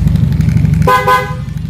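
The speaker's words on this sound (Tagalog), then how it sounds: "lumakas na raw yung busina niya" A low motorcycle engine idles loudly, then the motorcycle's bright, buzzy horn blasts briefly, twice in quick succession, close by.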